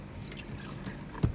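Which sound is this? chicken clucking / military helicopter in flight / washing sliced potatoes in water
washing sliced potatoes in water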